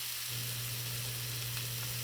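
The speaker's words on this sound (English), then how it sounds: "now I'm going to add 2 tablespoons of butter" Two tablespoons of butter melting into a hot pan beside nearly finished steaks, producing a loud, continuous, close sizzle with a low steady hum underneath.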